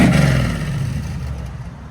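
A 1971 Chevy Chevelle with a 454 big-block V8, exhaust cutouts open and Flowmaster mufflers, revs in a short, loud, throaty burst that falls away to a rumbling idle.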